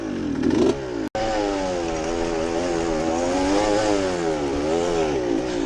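A two-stroke dirt bike with a new exhaust revs hard outdoors, its buzzy, whining engine note wavering up and down continuously and close by after a brief sharp click.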